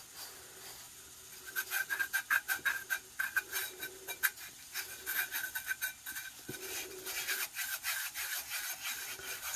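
Burnishing the bottom of a glitter-covered tattoo tumbler: close, dry rubbing strokes in a quick back-and-forth rhythm, then a steadier scrubbing texture, with no talking.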